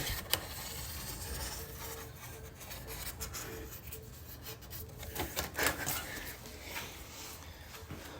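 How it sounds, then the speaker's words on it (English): A blade cutting through a piece of cardboard for a CRX wide fender template, giving a steady close scraping rasp with brief sharp snaps throughout. "we can get a piece of cardboard right now and just kind of cut it"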